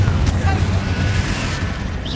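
A Confringo fire blast spell explodes in Hogwarts Legacy with a loud, close burst, then a rushing, roaring tail that fades over about two seconds.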